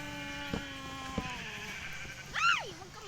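A goat in the video game Minecraft gives a single loud, wavering bleat near the end, after a few short tones and clicks over a faint background hum.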